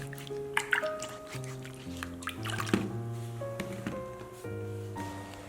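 Cucumbers are washed in a basin of lightly salted water, with soft splashes, drips and wet rubbing sounds at close range, fairly quiet.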